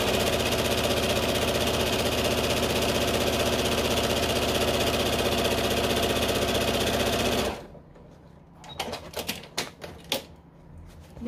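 An industrial sewing machine stitching patchwork, running in a fast, steady continuous whir for several seconds before stopping, followed by scattered clicks and handling noises.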